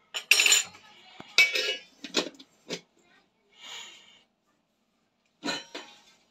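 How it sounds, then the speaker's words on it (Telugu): A spoon mixes eggplant fry ingredients with cornflour in a bowl, producing several separate clinks and scraping knocks with quiet gaps between them, close by. "ఇవన్నీ ఒకసారి మిక్స్ చేసేస్తున్నా."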